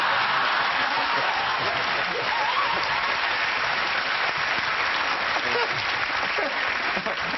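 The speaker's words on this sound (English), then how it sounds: "Niall down the end just clapping" A studio audience on a chat show applauds in a dense, sustained wash of clapping, evenly loud throughout, with faint voices mixed in underneath.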